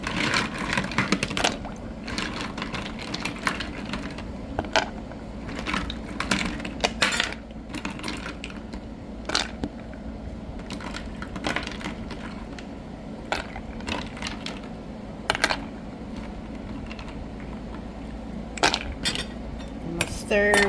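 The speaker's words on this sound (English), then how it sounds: "Added some ice." Ice cubes dropped into a container of fall punch, giving a busy run of clinks, rattles and knocks close by over a low background hum.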